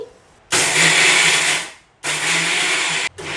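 A kitchen mixer grinder pulses coarse salt in two loud bursts of whirring and grinding, each about a second long with a short pause between, then a brief third start at the end.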